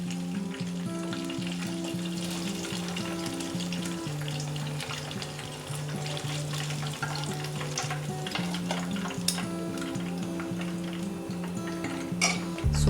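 Crispy chicken bread balls, chicken mayo balls, deep-frying in hot oil with a steady, dense sizzle throughout, joined by occasional stirring and light clinks of a utensil against the pan; no one speaks.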